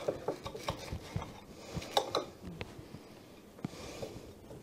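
Knife or utensil cutting a grilled cheese sandwich on a saucer, made in a Lodge square skillet: faint clinks and scrapes of metal on ceramic, irregular and close, with no talk.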